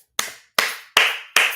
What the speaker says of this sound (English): hardcore claps, the kind of claps that wake someone up